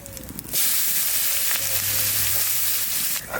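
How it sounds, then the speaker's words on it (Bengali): Dry red chili, cumin and chopped onion hit hot oil with a sudden loud, close sizzle that holds steady and strong for several seconds before easing off, with no talking. "তেলের মধ্যেই আমি দেব একটা শুকনো লঙ্কা আর একটু জিরে কুচনো পেঁয়াজ"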